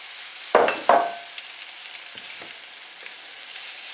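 Rice added to vegetables browning in oil in a wok, with two sharp stir-fry tosses near the start followed by a continuous close sizzle and a few faint scrapes.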